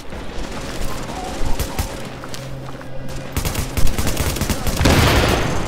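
Automatic gunfire and bursts of shots in The Division, a third-person shooter video game, during a firefight with enemies; dense, loud volleys and impacts swell toward the end, with a voice briefly heard amid the shooting.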